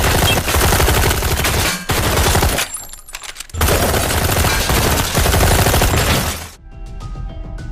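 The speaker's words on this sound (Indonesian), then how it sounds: "berada di suatu pom bensin bersama Kim Sik diserang oleh orang tak dikenal menggunakan senapan mesin." Loud bursts of rapid machine gun fire rattle continuously, broken by a short lull before resuming, then trailing off into fainter echoing noise.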